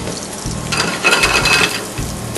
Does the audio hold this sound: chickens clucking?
no